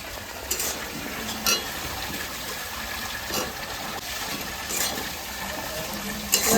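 Tomatoes go into a pan of frying ginger, garlic and green chilli masala, producing a steady sizzle broken by repeated scraping stirs from a spoon, close and unaccompanied by talk.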